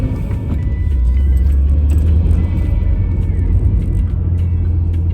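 A 2016 Subaru WRX with an aftermarket intake and tune, including rev-matched downshifts, gives a loud, close, deep engine rumble heard from inside the car, steady and strong throughout.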